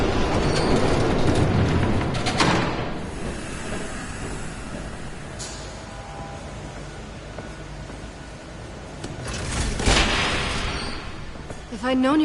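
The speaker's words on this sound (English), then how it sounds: "There's a train coming." Train rumbling past in the Batman: The Telltale Series video game, a loud, steady wash of rail noise that swells again near the end, with a voice briefly heard.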